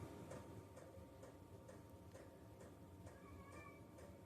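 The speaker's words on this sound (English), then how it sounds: "Oh, I hear a cat outside." A faint cat meows once or twice outside in the distance over a steady low background hum with soft regular ticking.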